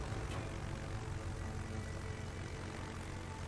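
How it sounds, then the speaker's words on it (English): Steady propeller-aircraft engine drone of rocket planes making an attack run in World of Warships, a continuous broadband roar holding at a fairly even level throughout with no talk. "we can try to strike her with rocket planes from the side"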